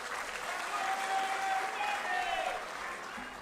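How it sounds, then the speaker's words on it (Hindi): An audience at a social justice event applauds Rahul Gandhi, dense sustained clapping from a large crowd that holds steady for several seconds before easing slightly. "जन नायक राहुल जी के लिए फिर से जोरदार तालियां।"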